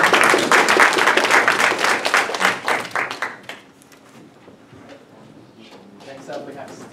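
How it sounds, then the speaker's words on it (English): An audience at the Xtecher Chunhui Cup event gives a round of applause, loud and close for about three seconds before it dies away into a quiet room with a few faint taps. "Let's give a round of applause."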